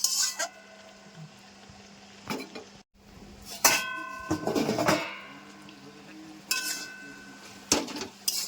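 A metal spatula scrapes and clanks against a pan while stirring gourd-leaf curry cooked with fish oil, dried chili and five-spice tempering; sharp metallic clinks come in scattered bursts over a low background hum.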